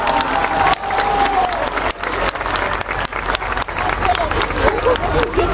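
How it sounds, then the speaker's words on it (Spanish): Dense audience applause fills the room at a Diosa Centéotl event in Tlacolula, loud and sustained, with crowd noise and a speaking voice over it. "Solicitamos un aplauso a Erika Alvarado Jiménez de Tlacolula de Matamoros"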